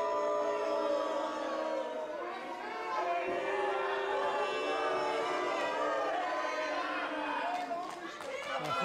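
A wrestling-event crowd in Sainte-Thérèse voicing disagreement, a sustained roar of many voices booing and jeering at moderate distance, steady throughout with a swell near the end.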